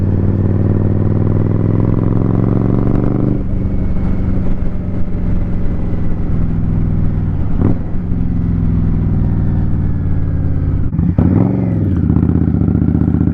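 A motorcycle with an aftermarket exhaust rumbles loudly and steadily at close range while riding on a cold day, its engine note shifting with a couple of brief rises in revs.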